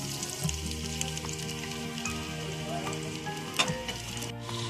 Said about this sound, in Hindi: अब मैं प्याज फ्राई करने लगी हूँ।